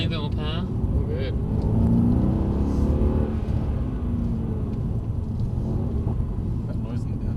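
A Mercedes-AMG car accelerates on the Brooklands track in London, its engine a steady low rumble heard from inside the cabin, with voices talking over it.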